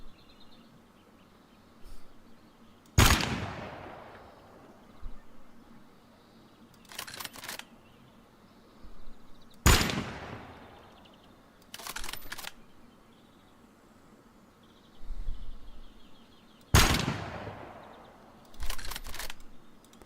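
Hip-fired guns in a video game crack out in three sharp, bright bursts spaced several seconds apart, each followed by short clacking mechanical clicks, over a faint steady background hum with no talking.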